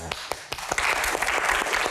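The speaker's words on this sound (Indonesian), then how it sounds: "Oh bagus, tepuk tangannya cepet banget gitu." A small audience at an Indonesian Q&A session gives a quick round of applause. It opens with a few separate claps, then thickens into brisk, fairly close clapping that keeps going to the end.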